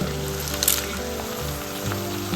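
Onion, split garlic and curry leaves sautéing in hot oil in a pan, a dense, steady close sizzle with a brief spatula scrape partway through.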